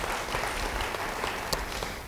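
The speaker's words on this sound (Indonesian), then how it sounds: "Beri tepuk tangan bagi dia." Church congregation clapping during a sermon, a steady dense patter of many hands held at an even level for about two seconds, with no voice over it.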